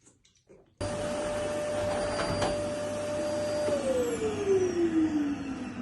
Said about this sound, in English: don't forget to hoover